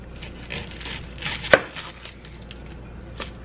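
Onion chopped with a knife on a cutting board, a few soft taps and one sharp, loud thunk near the middle, close up with a quiet background.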